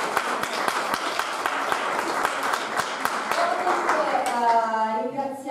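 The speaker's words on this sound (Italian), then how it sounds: "Un applauso." Audience applause at an event in Nardò presenting halal tourism opportunities, steady crowd clapping with scattered sharp claps, fading at the end as a voice and tonal sound rise.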